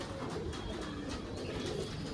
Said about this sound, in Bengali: খুবই সুন্দর কোয়ালিটির পায়রা আছে